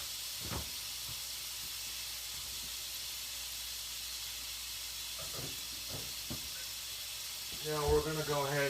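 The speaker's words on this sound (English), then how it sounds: "I got the pan on a medium heat once again because we don't want that butter to burn" Butter melts and sizzles in a pan on medium heat, a faint steady hiss with a few soft clicks and taps, and someone begins talking near the end.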